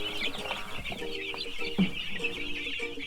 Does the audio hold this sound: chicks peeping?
yes